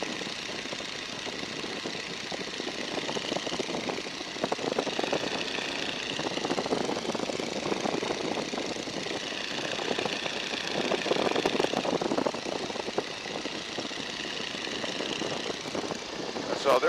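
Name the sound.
Boeing N2S-2 Stearman biplane engine in flight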